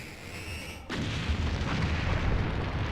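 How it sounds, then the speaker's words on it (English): Explosions in the video game Kingdoms of Amalur: Reckoning, a sudden loud burst about a second in that turns into a sustained, heavy rumbling roar. "Explosions, by the way. Lots of explosions."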